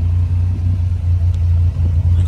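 A Buick Grand National engine idles with a loud, steady low rumble close by, running smoothly without revving and with no talk over it.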